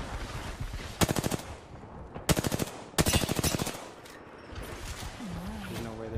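Automatic gunfire bursts in the Apex Legends battle royale game, three loud rapid volleys around one, two and three seconds in, with game sounds and a voice speaking during the gaps.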